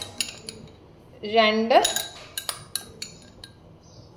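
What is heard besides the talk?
spoon clinking while adding cardamom powder to beetroot payasam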